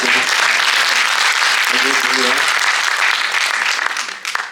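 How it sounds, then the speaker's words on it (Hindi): Audience applause at a live stage drama performance, dense sustained clapping throughout with voices calling out briefly in the middle, thinning toward the end. "अगर वाकई अच्छा हो तो तालियां बजा दीजिए।"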